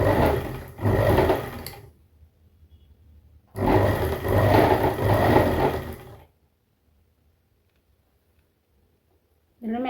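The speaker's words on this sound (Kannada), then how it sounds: "ಮೇಲೆ ನೋಡಿ 1/4 ಇಂಚಿಗೆ ಹೊಲಿಗೆ ಹಾಕ್ರಿ." A sewing machine stitches a pant seam in two loud, close bursts of whirring motor and needle, with quiet pauses between them and a short start at the very end.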